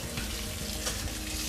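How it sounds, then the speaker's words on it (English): Faucet in a Riverstone luxury fifth wheel RV running hot and cold, a continuous close hiss of water spraying and splashing, with no one speaking. "You'll want to make sure that you turn the faucet to hot and cold"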